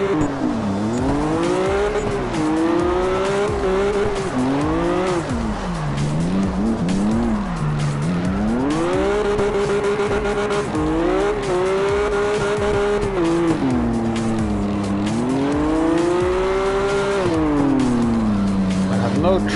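A car drifts in the CarX racing game, tires squealing in long wavering rising and falling wails over a loud revving engine, continuous and close throughout, with a voice talking over it.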